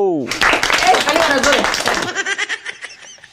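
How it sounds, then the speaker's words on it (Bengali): A short burst of quick hand claps at home mixes with chuckling and laughter, then fades into a few scattered claps as voices trail off. "হাততালি মারো"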